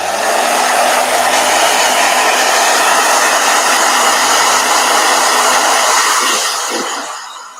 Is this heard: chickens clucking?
no